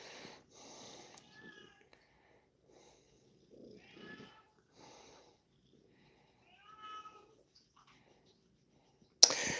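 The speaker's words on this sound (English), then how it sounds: "He's meowing like right at the door." A pet rescue cat meows several times right at a door, short faint calls spaced apart in a quiet room, followed by a sudden bump at the end.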